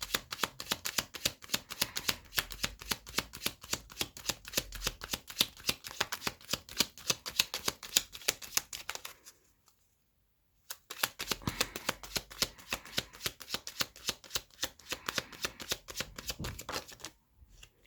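A deck of tarot cards is shuffled again and again, rapid crisp riffling flutters running in long close bursts, broken by one short silent gap.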